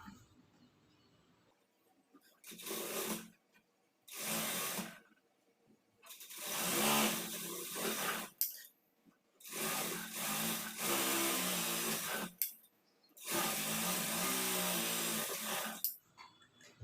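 A sewing machine stitches a blouse in a tailoring workroom, running in repeated bursts of about a second or two each, separated by short pauses, with a steady whirring close by and no talking.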